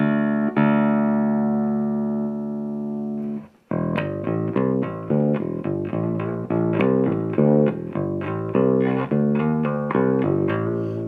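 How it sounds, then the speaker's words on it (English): A gritty bass guitar through an overdriven Ampeg amp preamp plays a sustained note, then a run of punchy repeated notes with crunchy distortion, loud and close, no voices. "getting that nice gritty overdriven sound"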